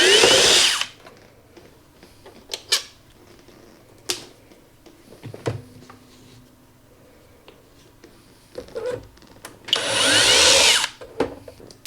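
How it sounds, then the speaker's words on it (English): An automatic screwdriver with a Torx 8 bit whirs in two loud bursts at the start and end while removing screws from a PlayStation 5 console, with quiet clicks and handling noises in between. "I do suggest for the PlayStation 5 that you have some sort of automatic screwdriver"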